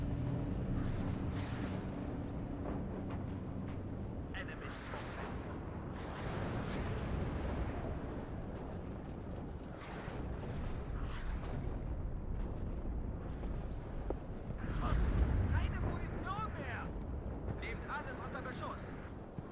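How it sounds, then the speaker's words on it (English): Artillery barrage in the video game WARNO, a rumbling wash of distant explosions and gunfire with heavier thuds toward the end, under someone talking. "they've got artillery coming down on us"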